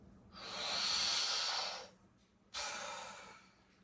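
A person doing Wim Hof breathing gives a long, close, forceful breath of about a second and a half, pauses, then gives a second shorter breath.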